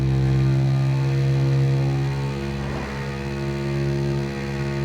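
Kawasaki KX 450 dirt bike engine running steadily at a low, even idle, close and alone with no voices, a slight dip in revs midway before settling back.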